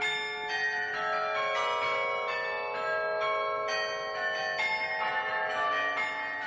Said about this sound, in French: Vous venez d'entendre un ensemble de cloches.